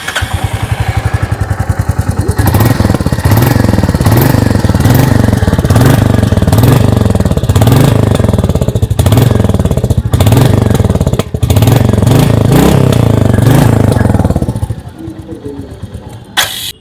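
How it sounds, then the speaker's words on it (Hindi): A 2025 Royal Enfield Meteor 350 single-cylinder motorcycle exhaust thumps steadily at idle with rhythmic blips of revving, loud and close, before the engine cuts off near the end. "आइए अभी सुन लेते हैं इस बाइक की एग्जॉस्ट नोट।"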